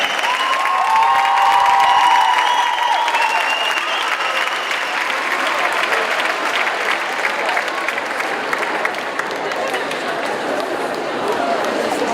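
A charity concert crowd applauds a member of a band, sustained loud clapping mixed with cheering and crowd noise throughout, with a brief whistle-like tone early on.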